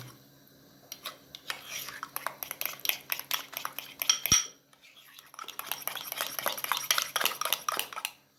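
A spoon mixes flour into egg-lemon sauce in a bowl, giving rapid, continuous clinks and scrapes in two busy bursts separated by a brief pause around the middle.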